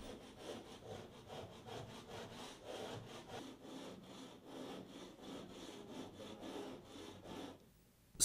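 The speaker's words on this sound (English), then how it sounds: "The joins are traced with a scraper to highlight them as an additional design element." A scraper is drawn steadily along the joins of a Stoneplex stone veneer wall, giving a continuous rasping, sawing-like scrape with a rhythmic back-and-forth pulse for about seven seconds, close and moderately loud, then stopping.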